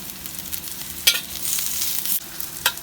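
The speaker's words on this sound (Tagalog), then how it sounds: "So, gisa lang natin siya." Onion and ginger sauté in a hot pan with garlic, a steady crackling sizzle broken by a few sharper spatula scrapes and stirs, close and loud.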